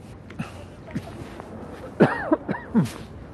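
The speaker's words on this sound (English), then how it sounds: "Sorry for the cough." Several short coughs and throat-clearing sounds close up in cold outdoor air, a few faint ones followed by a louder cluster of harsh coughs.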